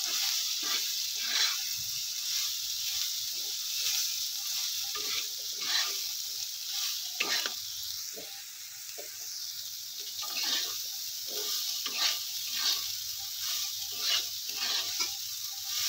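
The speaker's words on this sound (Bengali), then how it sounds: "দিয়ে এবার সয়াবিনটাকে আমি ভালো করে ভেজে নেব।" Soybean chunks frying with turmeric and salt in a pan, a quiet hiss broken by repeated spatula scrapes and stirring strokes, fairly close, with faint background noise.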